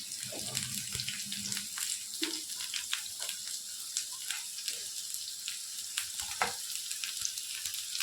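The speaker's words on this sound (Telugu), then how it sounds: "హీట్ అయ్యాక ఈ ఆనియన్స్ అయితే వేసేస్తున్నాను అందులోనే." Chopped onions fry in hot oil for a mutton masala curry, giving a steady close sizzle with scattered pops and a few stirring scrapes throughout.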